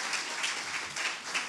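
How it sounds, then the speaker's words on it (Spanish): Brief burst of applause from a church congregation during a sermon, a bright, dense patter of clapping hands that holds steady for a moment, fairly loud and near. "dale aplauso al Señor"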